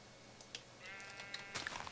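Sheep bleating in the Minecraft video game: a faint, short wavering baa midway, set among quiet clicks and game ambience with no talking.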